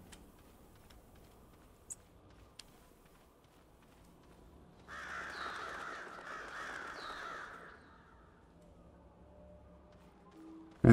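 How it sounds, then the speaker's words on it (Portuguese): Crows caw from a forest in the Lord of the Rings: War in the North video game, a few harsh calls in the middle stretch over a quiet ambient bed, with faint ticks before them. "Eu não sei o que é que os pássaros estão a fazer debaixo das linhas da floresta, das árvores."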